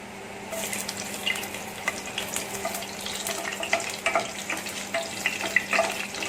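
Crushed garlic frying in hot oil for a Konkani fish curry, a steady close crackling sizzle with scattered sharp pops throughout.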